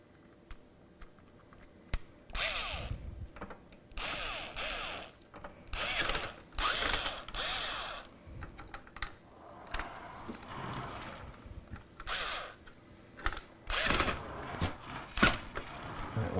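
A powered screwdriver drives bracket screws into a PC case in short bursts, roughly a dozen whirring runs of a second or so each, close up, separated by quiet pauses and small clicks.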